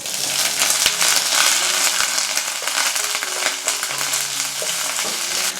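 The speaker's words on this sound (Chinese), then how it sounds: "接着加入洋葱" Onions frying with ginger strips in a clay pot, a loud, continuous close sizzle with crackling and repeated clinks of stirring against the pot.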